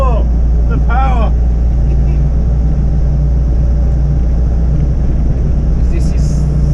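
A Land Rover Defender fitted with a swapped TDI diesel engine drives along, its steady, loud low drone filling the cabin from start to finish, with brief higher tones near the start.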